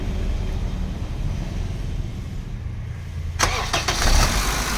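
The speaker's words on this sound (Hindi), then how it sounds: "स्टार्ट कर गाड़ी।" Car engine starting during a MAF sensor diagnosis: a steady idle-like rumble runs throughout, then a brief crank leads into the engine catching and settling, heard up close with no voices.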